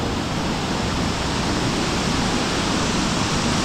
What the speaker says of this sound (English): Uma Anyar Waterfall